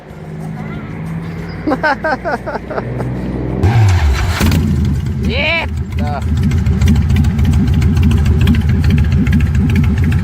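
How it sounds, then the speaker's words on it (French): A loud motorcycle engine starts abruptly and then runs with a rough, throbbing idle and blips of revving, close by, while people talk and one shouts excitedly over it. "j'entends plus ma moto parce qu'elle a un méchant bruit. Elle va la starter tantôt, vous allez voir"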